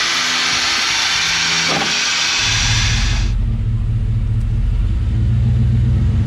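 A vehicle fitted with a Grizzly locker and 4.56 gears pulls away down a residential street. A steady engine and road rumble grows deeper and louder partway through as the drive continues, with no talking.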